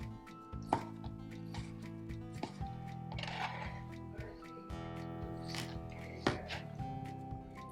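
A knife cuts through shiitake mushroom stems with a series of crisp, evenly spaced cuts over a steady background hum.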